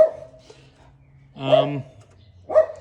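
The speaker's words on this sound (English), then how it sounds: "the dog won't shut up, typical." A dog barks twice in short bursts, the yelps fairly close and loud, with a low steady hum underneath.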